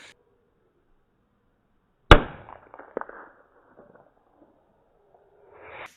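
A single sharp bang from a small piccolo-type firecracker rings out after silence, followed by a brief crackling tail and a few scattered smaller pops.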